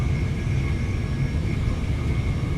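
Cab of a commuter train on the Brighton Main Line in Train Sim World 2, with a steady low rumble, a faint continuous whine and light rattling vibration, no voices.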